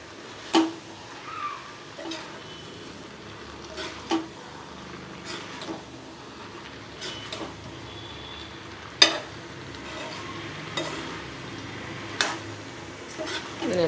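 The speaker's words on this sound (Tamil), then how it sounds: "இதை நல்லா மிக்ஸ் பண்ணி கொடுத்துருங்க" Intermittent scraping and clinking of a spoon stirring paneer masala in a pan, sharp taps every second or two over a steady low background hiss.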